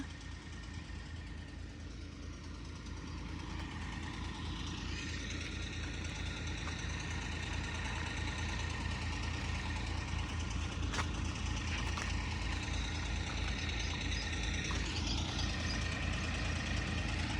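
Tractor engines idle at a flooded tower construction site in Amaravati, a steady low diesel rumble running continuously and close by, with no talking.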